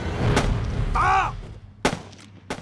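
Gunfire in a war drama battle scene of a Japanese army sweep met by defending troops: three sharp, isolated gunshots over a low rumble, with a brief shouted voice between the first two.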